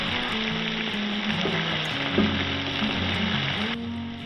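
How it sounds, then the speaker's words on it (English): Chopped onion and green chilies sautéing over medium heat, a strong continuous close sizzle with a low hum underneath and a faint stir or scrape, no voices. "green chilies 2, chopped onion 1 cup, saute for 2 minutes on medium heat"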